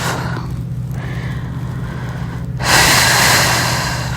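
Deep, slow breathing during a guided full-moon rebirth ritual, close and audible, with a louder, fuller breath swelling in toward the end over a low steady hum.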